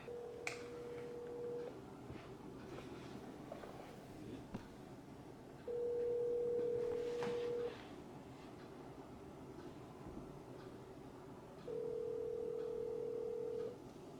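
A telephone line tone sounds in three steady electronic bursts, each about two seconds long, separated by quieter gaps over a low background rumble.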